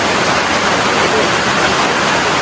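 Broad, steady rush of a flowing river filling the whole clip, loud and close, with no breaks or voices.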